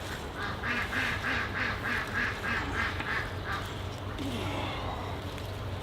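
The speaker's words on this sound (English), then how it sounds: "Watch out, ducks." Ducks quack in a quick, rhythmic run of about nine calls outdoors by a garden plant room, moderately close over a noisy background, then fade out.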